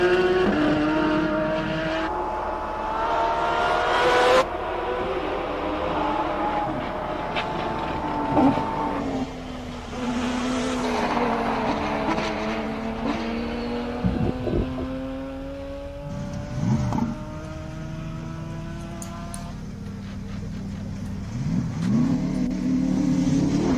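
Race cars at the Simola Hill hillclimb, King of the Hill event, roar as they accelerate uphill one after another, engines rising and falling in pitch through gear changes, loud and continuous with no talking.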